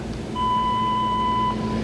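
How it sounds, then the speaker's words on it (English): A voicemail system plays its prompt tone before name recording, a single clean electronic beep held steady for over a second against a low background hum. "After the tone, say your name"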